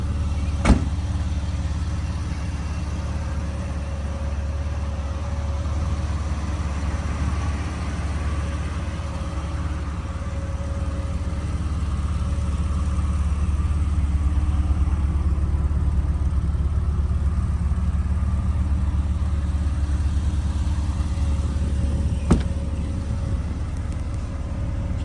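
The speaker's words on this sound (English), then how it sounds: "Nice stable idle." A 2004 Jeep Wrangler X engine idles steadily up close with its AC just switched off, a constant low rumble with a faint mid-pitched drone on top and two brief sharp clicks near the start and end.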